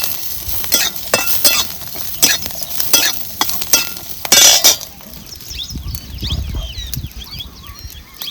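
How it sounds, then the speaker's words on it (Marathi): Garlic and green chillies roast in a splash of oil in a pan. Repeated sharp scraping and clanking stirs come first, then a softer, steady crackling sizzle. "चांगल्या तडसड असं हा लसूण आणि मिरची आपल्याला भाजून घ्यायचं"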